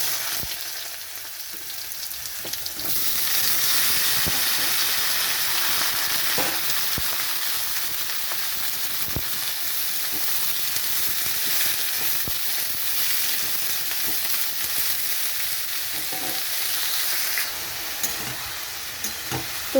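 Small watermelon pieces go into a hot pan of fried dried chilli and cumin seeds for a watermelon curry, giving a loud, steady close sizzle with occasional stirring clicks throughout.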